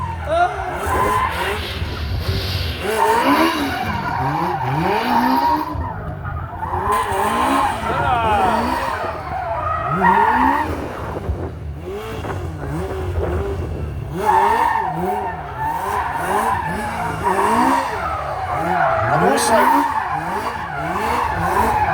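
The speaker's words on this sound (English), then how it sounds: "All I can hear is skids." A stunt-show car's tyres skid and squeal in repeated wavering bursts over its running engine, loud and close, with crowd noise underneath throughout at Leeds Castle.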